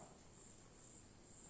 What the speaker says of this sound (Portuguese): estou escutando um grilo lá fora